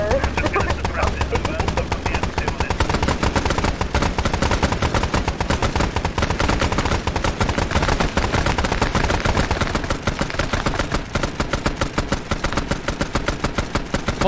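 Gunfire from Arma 3 crackles without pause, with dense machine-gun bursts and single shots packed close together, loud and relentless, and voices talk over it.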